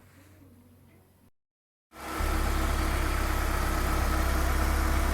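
Ford Sierra 2.0 DOHC engine idling after a timing chain replacement, nearly warm; quiet mechanical noise, a brief silence, then a steady, loud, even idle hum close by that holds for several seconds.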